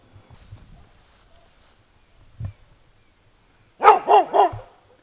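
A dog gives three quick, loud barks close by, following a quiet stretch with a single soft thump.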